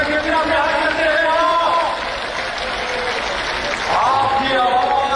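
Applause and cheering from a large crowd at an outdoor Imran Khan long-march rally, a steady roar that swells and dips with no pauses.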